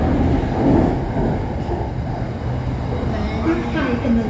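Interior of an SRT Red Line electric commuter train in Bangkok running between Don Mueang and Bang Sue, a steady low rumble of the moving carriage with some soft clatter, while a person talks over it.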